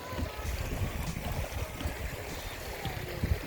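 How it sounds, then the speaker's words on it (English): Warm geothermal hot spring river in Iceland flowing steadily, a broad continuous rush of water with low gurgles, close and fairly loud, no voices. "Geothermal river."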